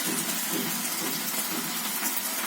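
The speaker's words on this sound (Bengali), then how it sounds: "এখানে ভেন্ডি ভাজি আমি বসাই দিচ্ছি, লবণ পেঁয়াজ দিয়ে বসাই দিচ্ছি।" Okra frying in a pan with salt and onion gives off a steady, close hiss and crackle of sizzling oil that holds level without a break.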